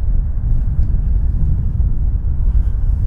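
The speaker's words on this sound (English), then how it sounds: "getting some wind today. We're up here on a hill." Strong wind buffets the microphone on an exposed hilltop at a gravesite, a steady low roaring rush with gusty fluctuations throughout and no voices.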